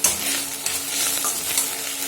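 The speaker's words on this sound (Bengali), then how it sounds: "এটাকে একটু ভালো করে নেড়ে চেড়ে মশলাটা ভালো করে ভেজে ভেজে নিতে হবে।" Ginger, cumin and green chili paste stir-frying in hot oil, a steady broadband sizzle with faint scraping of stirring, close and continuous, no voices.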